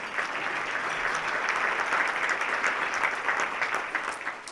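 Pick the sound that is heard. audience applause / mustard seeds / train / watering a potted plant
audience applause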